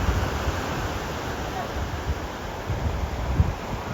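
Ocean surf and wind at a beach in Weymouth, New England during a storm, a constant loud roaring wash with gusty rumble and occasional low buffets against the microphone, no voices.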